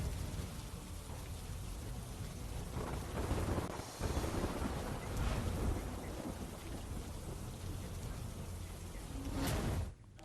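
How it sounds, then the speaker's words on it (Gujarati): Unseasonal early-morning rain shower in Dang district, a steady broadband hiss of falling rain, moderately loud and continuous, with a brief swell near the end. "ડાંગના આવામાં વહેલી સવારે જ વરસાદી ઝાપટું ઘણા વિસ્તારોમાં નોંધાયું છે"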